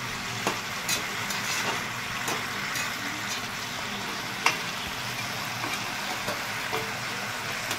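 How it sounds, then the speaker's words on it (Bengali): Greens cooking with potato, pumpkin and drumstick stems are mixed in a pan, making a low continuous sizzle with scattered light scrapes and taps of the spoon, close up with no talk. "আমি এবার শাকটাকে বন্ধুরা ভালো করে মিলিয়ে নিচ্ছি"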